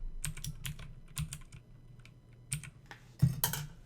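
Keys clatter on a computer keyboard in quick irregular bursts with short pauses between them, close and fairly quiet, with no talking.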